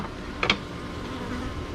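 Bees buzz around a massive hive by a pool, a faint steady drone with a brief louder pass of a single bee close by near the start, no talking.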